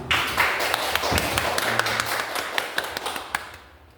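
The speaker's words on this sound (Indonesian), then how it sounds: "Kita beri tepuk tangan buat Bu Andri dulu." An audience claps for a speaker after a presentation, scattered hand claps in quick irregular bursts for a few seconds before fading out, with a faint voice underneath.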